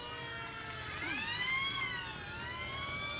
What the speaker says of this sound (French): ils font beaucoup de bruit avec leurs sirènes parce qu'ils sont fiers de libérer le pays